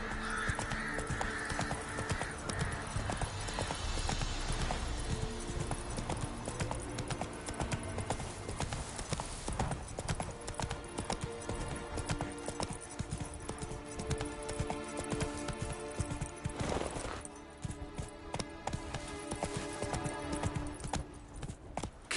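Roach, the horse from The Witcher 3, gallops with a rapid, continuous clip-clop of hooves, loud and close, driving steadily for a long stretch with a brief lull before resuming.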